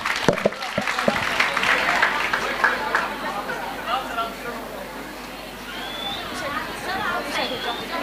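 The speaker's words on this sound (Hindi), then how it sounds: "जोरदार तालियों से इनका स्वागत करें।" Clapping from the audience at a school annual function, loudest in the first few seconds and then fading into crowd chatter and murmuring voices. Some tonal sounds come in near the end.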